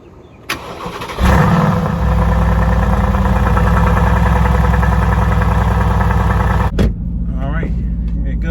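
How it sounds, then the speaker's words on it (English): A Mercedes-AMG GT fires up from a cold start with a sharp burst, then settles into a loud, steady idle with a deep, rumbling rhythm that continues until a brief blip near the end. "cold start."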